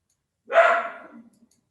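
A single loud, close dog bark rings out sharply and fades quickly into silence, heard over a home microphone during an online panel discussion.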